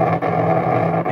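Stepper motors play a song while held loosely in the hand, producing a continuous, droning buzz with eerie shifting pitches and a couple of brief dips, close and fairly loud, with no voices.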